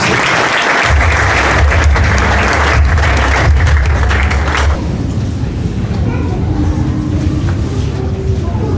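A church congregation breaks into loud, sustained applause, dense and close at first and then settling into a lighter, continuing clatter of clapping, with a voice speaking at the start.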